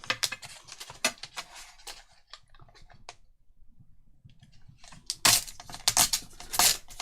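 Scissors cutting paper for a junk journal make a run of quick, crisp snips and rustles close by. A quiet pause comes midway, then a denser, louder burst of cutting and paper handling follows.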